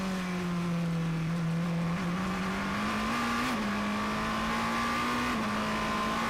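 The number 5 Porsche and a Ferrari race cars at the 1000 Miles of Sebring, an FIA WEC endurance race, roar past with a loud, sustained engine drone that rises steadily in pitch as they accelerate.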